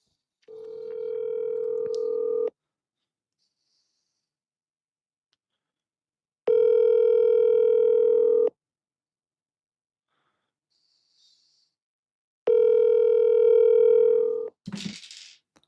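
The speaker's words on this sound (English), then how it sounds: "We want to call Karen." Ringback tone on an outgoing phone call to a seller, three long steady tone bursts of about two seconds each separated by silent gaps of about four seconds, ending with a brief click as the line connects.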